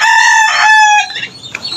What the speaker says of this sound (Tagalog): Sa kabila, meron din. Manok naman yan.